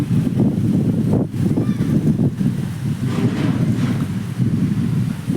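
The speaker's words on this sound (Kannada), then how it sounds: "ಫುಲ್ ಮಸ್ತ್ ಅಂದ್ರೆ ಮಸ್ತ್ ಬೀಸಿದ ಗಾಳಿ." Strong wind buffeting the microphone, a loud continuous roar with gusty surges throughout.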